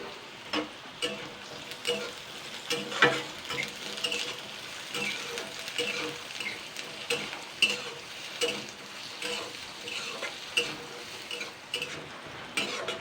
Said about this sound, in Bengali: আগে আলুটাকে সুন্দর আলু ভাজার মতন করে ভেজে নেব